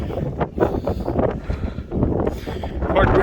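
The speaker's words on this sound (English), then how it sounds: "Quite windy out here." Wind gusts across the microphone on a hilltop along the Channarayana Durga trek, a loud rumbling buffet that rises and falls in waves over a few seconds.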